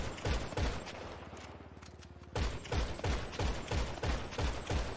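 Rapid gunfire in GTA 5 Online comes as a string of sharp, evenly spaced shots, loud and close, with a short break of lighter rattling before the steady volley resumes.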